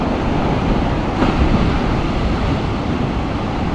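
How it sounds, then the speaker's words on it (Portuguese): Ocean waves break against the shore below the Matinhos beach lookout, a steady loud roar of surf with wind noise and no break in the wash. "Olha as ondas que bate aqui."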